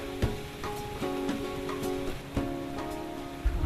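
Rain falls steadily on a rocky plateau landscape in the Americas, a continuous wash with scattered sharper drops and a few brief knocks on top, no voices.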